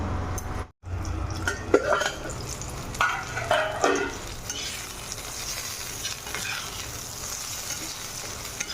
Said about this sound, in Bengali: তো কলাটা ভালো করে ভেজে নিয়েছি